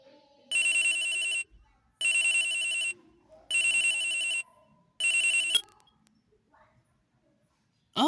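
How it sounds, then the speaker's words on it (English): Four bursts of an electronic telephone ring from the video game Phoenix Wright: Ace Attorney sound in an even on-off rhythm and stand alone, each bright and loud, followed by a short faint tail and near silence. "Oh, a phone call."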